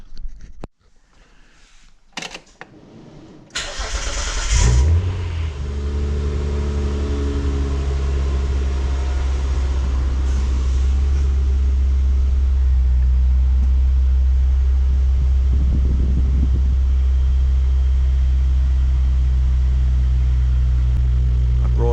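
Clicks and a brief cranking, then a Mitsubishi car engine catches and settles into a steady, loud, low idle that continues to the end.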